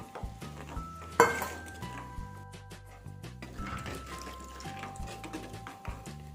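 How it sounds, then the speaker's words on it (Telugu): Ragi flour mixed with water is poured into a pot of boiling water and stirred, giving a sharp clank of utensil on pot followed by soft scraping and bubbling under a steady hum. "నీళ్ళు అనేది మరుగుతున్నప్పుడు మనం ఈ పిండిని ఒకసారి ఈ విధంగా కలిపి ఇందులో వేసేసుకోవాలి"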